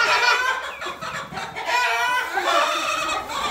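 Roosters and hens in a barn coop, clucking and crowing repeatedly in overlapping calls, close and fairly loud with no talking.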